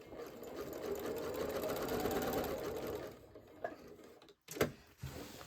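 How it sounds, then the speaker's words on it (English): Sewing machine quilting a fabric table runner, running steadily for about three seconds before stopping, followed by a few short clicks and bumps as the fabric is pivoted. "go around the outside of these and then on the inside of these"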